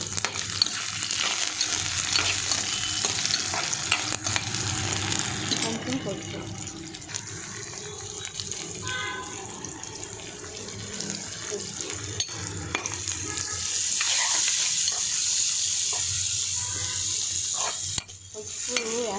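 Onions sizzle and fry in hot oil with curry leaves and browned garlic, a steady close crackle with stirring scrapes throughout; a voice talks over it at times.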